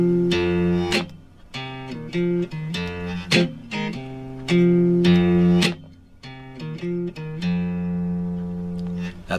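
Plucked guitar riff in hill-country blues style, with a repeating low bass pattern and short melodic phrases ringing out clearly and alone for about nine seconds.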